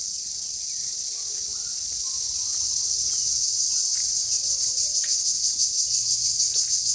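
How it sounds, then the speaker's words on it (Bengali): Crickets and other insects chirp in a dense, continuous high-pitched drone that pulses faintly toward the end, with no voices over it. "পোকার আওয়াজটা আপনারা লক্ষ্য করেন।"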